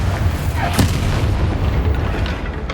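A Confringo blasting spell in the Hogwarts Legacy video game bursts as a loud, booming explosion with a heavy low rumble that lingers across the whole moment.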